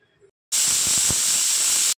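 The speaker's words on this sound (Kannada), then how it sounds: "ಇದು ಎರಡು ವಿಜಿಲ್ ಆದರೆ ಸಾಕು, ಚೆನ್ನಾಗಿ ಬೆಂದಿರುತ್ತೆ ಬೇಳೆ" A kitchen pressure cooker cooking lentils lets out a sudden loud, steady steam hiss at close range, holding at full strength for about a second and a half before stopping abruptly.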